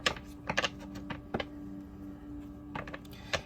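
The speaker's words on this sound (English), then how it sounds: "So I'm going to go ahead and shuffle your deck here" Playing cards shuffled by hand during a tarot-style reading, giving a few quick riffling bursts spread across a few seconds, close and fairly quiet, with a steady low hum underneath and no talking.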